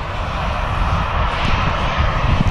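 A Jet2 airliner inbound from Palma, Mallorca, roars at Manchester Airport, a loud, steady broadband engine rumble that continues throughout with no talk over it.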